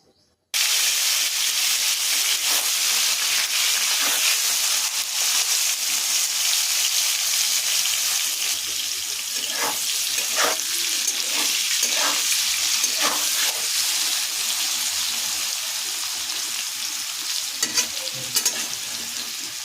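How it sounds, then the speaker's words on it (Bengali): Paneer cubes frying in hot oil in a pan, a steady close sizzle and hiss lasting throughout, with occasional sharper crackles and spatters rising from the bubbling and no voices. "পনিরটা প্রথমে ভেজে নেব"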